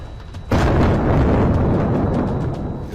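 A bombing strike explosion bursts suddenly after a brief quiet, a loud heavy boom that rolls on as a sustained roar and slowly fades.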